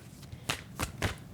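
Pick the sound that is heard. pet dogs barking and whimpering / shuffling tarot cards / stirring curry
shuffling tarot cards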